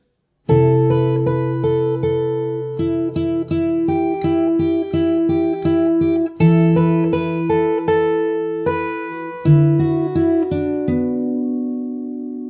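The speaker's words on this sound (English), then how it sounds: "So the whole verse till here slowly sounds like this." Slow fingerpicked acoustic guitar plays a verse, single plucked notes and ringing chords in a steady unhurried rhythm, close and clear, with no voices.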